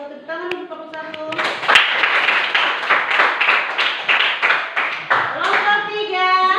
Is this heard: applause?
yes